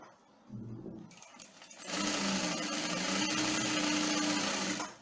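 An industrial sewing machine starts with a brief lower whir, then runs at high speed in a loud, steady, high-pitched drone for about three seconds, close up with no talk.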